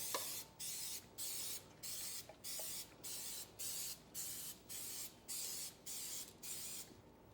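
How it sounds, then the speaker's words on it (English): Cooking spray from a can hisses over a muffin pan in about a dozen short even bursts, each under half a second with brief pauses between, close up and fairly quiet. "So we'll take our pan spray and just kind of lightly spray them."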